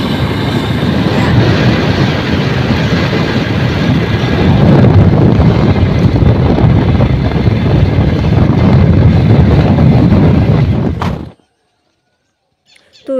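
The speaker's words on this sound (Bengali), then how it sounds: "এই যে বাইকের যে হাওয়াটা, মারাত্মক হাওয়া।" Strong wind buffets the microphone of a moving motorbike on a foggy early-morning ride, a loud, continuous roar that cuts off abruptly near the end.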